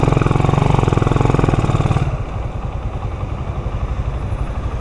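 A motorcycle engine idles nearby outside a fast-food drive-thru, a loud rapid chugging pulse that drops to a lower, rougher putter midway through, with no voices.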